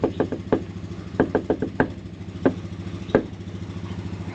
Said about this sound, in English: Those knocks aren't working.